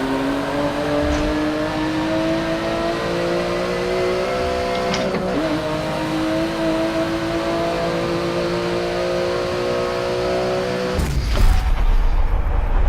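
A racing car in Forza 7, driven with a wheel, drifts through a lap: a loud, sustained engine drone with shifting revs and tyre noise, ending in a sudden burst of scrubbing at the close, with no talk.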